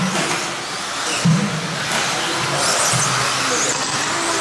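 Modified 2wd RC buggies racing down the backstretch of a track, a loud, steady high-pitched motor whine with small rises and falls as the cars pass, and no voices.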